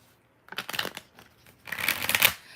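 Tarot cards shuffled by hand in two short bursts of quick riffling flutter separated by a pause, close and crisp.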